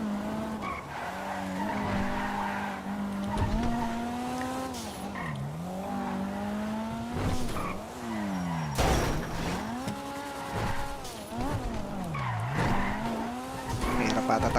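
A video game car races at speed with a droning engine that rises and falls through gear changes, while tires squeal and skid repeatedly; loud and continuous, with occasional sharp impacts.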